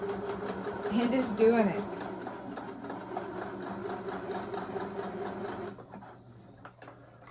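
A beginner sewing machine stitching two pieces of pleather, its motor whirring steadily with a rapid needle clatter, loudest early on and then tapering off before stopping near the end, while someone talks briefly over it.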